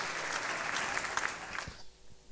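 A festival crowd in Bukavu applauding and cheering loudly and continuously, then the clapping drops off abruptly near the end.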